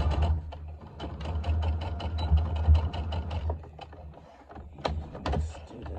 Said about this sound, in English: You're gonna just sew right around that curve there.